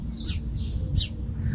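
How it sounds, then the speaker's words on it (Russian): Sparrows chirping in a garden on a cold June day, two or three short bright chirps standing out over a steady low background hum, with no voices. "Вам слышно, как воробьи чирикают?"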